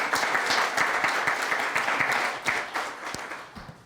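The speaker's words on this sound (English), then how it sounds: "Please give him a round of applause." Applause from an audience welcoming a hospital CEO on a healthcare insurance panel, a short burst of steady clapping that fades slightly toward the end.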